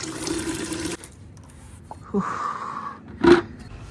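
Water runs and splashes steadily for about a second, then stops. After a quiet gap come a few shorter watery gurgles and a louder splash near the end, all close by, with no talking.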